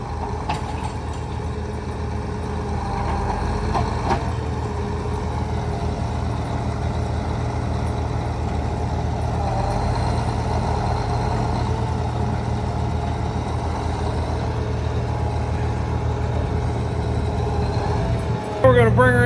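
Farm tractor engine idling steadily with a low, constant rumble throughout, heard close up; a faint clunk near the end, with a possible voice in the background.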